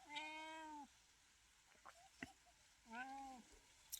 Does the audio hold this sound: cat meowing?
yes